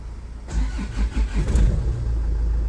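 A Range Rover engine cranks over and catches, sputtering through a few uneven bursts before settling into a steady, close idle.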